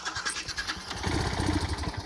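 A motorcycle strains up a steep uphill village road in the hills. The low engine rumble labors, then grows louder and heavier in the second half, with no talk.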